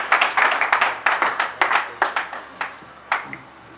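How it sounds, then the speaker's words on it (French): Audience clapping and cheering at a Congolese comedy gathering, a run of sharp hand claps in uneven bursts that thin out toward the end, fairly close and with no talk over it. "Acclamons encore plus fort pour ça."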